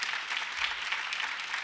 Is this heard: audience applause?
yes